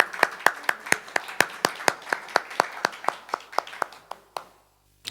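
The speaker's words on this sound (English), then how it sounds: "with a big round of applause" Rhythmic clapping from an audience welcoming a performer onto the stage at an Indian cultural festival in Bern, steady beats about twice a second that slow, thin out and stop.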